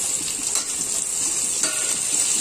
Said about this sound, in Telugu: వేసి ఫ్రై చేసుకుంటూ ఉండాలి పొటాటో కూడా వేసుకుందాం